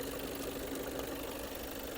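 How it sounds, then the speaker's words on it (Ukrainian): A 2020 Volkswagen Passat Alltrack 4Motion engine idling steadily, a low even hum with fine mechanical ticking, heard close and alone with no talk. "моторчик працює дуже гарно"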